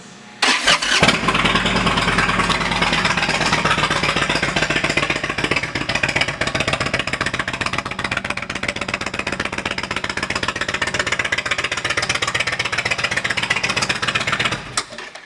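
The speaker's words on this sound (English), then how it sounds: "let's listen to that exhaust" A 2019 Indian Chief Vintage motorcycle engine fires up and runs loud and close for the whole stretch, a throaty exhaust rumble with rapid pulsing, no talk over it.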